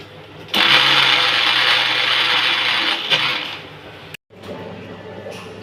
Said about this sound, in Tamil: இப்போ கடலைப்பருப்பு வந்து மிக்சியில் போட்டு அரைச்சி எடுத்துக்கலாம்.